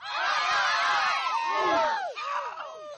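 Children at a British soccer camp chant and scream like football fans, a loud, dense crowd of high shrieks and shouts that swells, dips briefly, then trails off.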